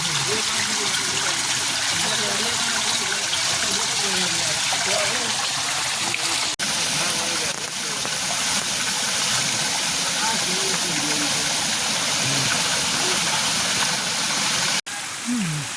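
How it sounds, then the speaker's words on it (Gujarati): Constant rushing of a mountain spring at Girnar, Junagadh, pouring down rocks, loud and close throughout, with faint voices murmuring beneath it. "જો મિત્ર આ પાણીનું ઝરણું ચાલુ હોય ઉપરથી"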